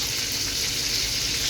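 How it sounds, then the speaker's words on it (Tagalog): Pork ribs sauté in a pan with a little broth for nilaga, giving a dense, steady close sizzle throughout. "Sinasangkot ko pa lang."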